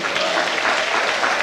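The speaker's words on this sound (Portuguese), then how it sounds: "Pode aplaudir." A church congregation applauds steadily, a dense, loud wash of clapping from many hands that fills the space without a break.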